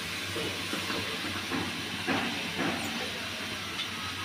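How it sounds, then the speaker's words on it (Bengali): Spinach and other chopped leafy greens simmer in a cooking pot, giving off a steady hiss of steam and bubbling with faint irregular pops, close and constant with no voices. "এগুলো সিদ্ধ হতে থাক।"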